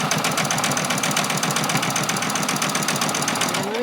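A sewing machine runs steadily while stitching a bag seam, its fast, even needle chatter going without a break for the whole stretch at close range.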